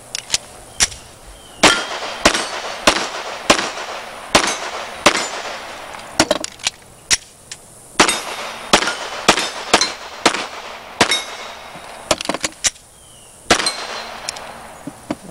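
Pistol gunfire during a timed shooting run at Clarks Custom Guns, with roughly thirty sharp, loud cracks in quick groups and short pauses, heard close with faint metallic ringing between shots.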